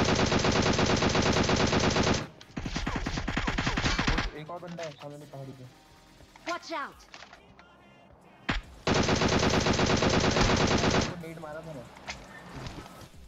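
Gunfire in the PUBG Mobile battle game comes as several long, loud bursts of rapid automatic fire, separated by quieter stretches of scattered shots and game sounds.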